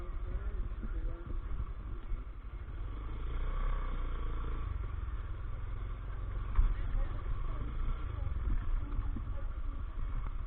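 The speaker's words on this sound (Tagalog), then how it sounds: "Ang daming motor oh." A riverside roadside scene where many motorcycles pass by and idle, their engines forming a continuous rumbling wash of traffic noise, with voices chatting over it.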